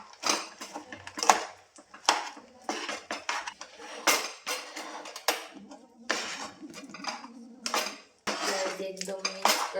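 Chikki mixture of peanuts and jaggery is stirred fast in a pan, giving a rapid run of metal clinks, scrapes and knocks of a spoon against the pan in uneven bursts with short pauses; no clear speech.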